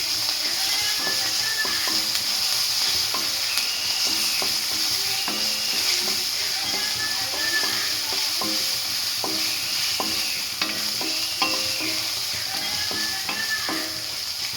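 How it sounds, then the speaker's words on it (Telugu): Ginger garlic paste fries in a pan for a potato curry, a steady loud sizzle running throughout while a spoon stirs it with repeated scraping clicks. "అల్లం ఎల్లిగడ్డ జింజర్ గార్లిక్ పేస్ట్ వేసేసి ఇలా పచ్చివాసన అయ్యేంత వరకు కలుపుకోవాలి"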